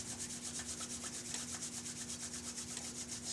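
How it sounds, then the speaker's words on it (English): Palms rub together vigorously in a steady back-and-forth rhythm during a chair yoga session, giving a soft, close, fast swishing friction under a faint constant hum. "Bringing hands together, rubbing them rather vigorously."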